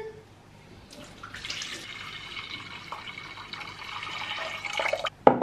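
A litre of water poured into a pot for a homemade natural cleaning product, a steady close stream splashing and filling, rising in pitch as the pot fills, ending with a sharp clatter.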